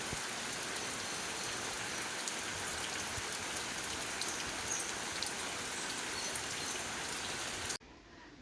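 Steady rain pours down continuously outdoors during a long wet spell, a dense even hiss with no voices, cutting off abruptly near the end.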